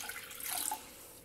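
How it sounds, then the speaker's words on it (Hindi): A cup of water pours into a pot for a cornflour milk dessert, a short, soft, faint splashing trickle heard alone. "इसके लिए 1 कप मैंने पानी लिया है"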